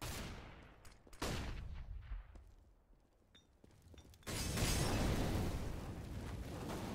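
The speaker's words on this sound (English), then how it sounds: "Throwing flashbang." Flashbang grenade detonating in CS:GO amid gunfire, with sharp bursts early on, a quieter lull, then a sustained loud blast and ringing wash of noise filling the last seconds.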